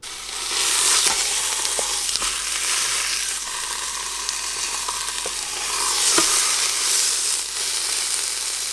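Meat searing in a Ninja Foodi pressure cooker on its sear/sauté setting, a steady close sizzle and spatter of frying with a few brief stirring clicks, no talking.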